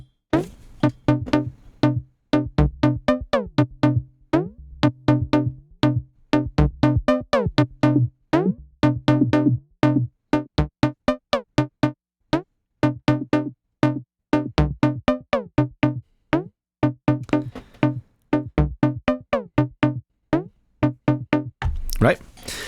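Short, punchy stabs from an Arturia MiniBrute 2 synthesizer repeat in an even, driving eighth-note rhythm, each note cut off sharply, continuing for a long stretch at steady volume.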